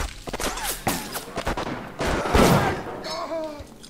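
Pistol gunshots in the video game Bioshock: a quick series of sharp shots with impact thuds, mixed with other game sounds, loud and close.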